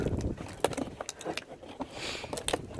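Car keys saw and scrape at packaging tape on a cardboard box holding a BMW E90 M3 split armrest, giving uneven rustles and sharp scratchy bursts with keys jangling now and then, close up.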